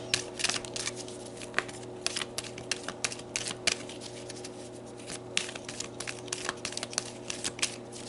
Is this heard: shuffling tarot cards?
yes